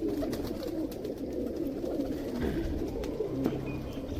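A rare-breed pigeon coos softly and repeatedly at close range, low rolling calls over faint background rustle, with no talking.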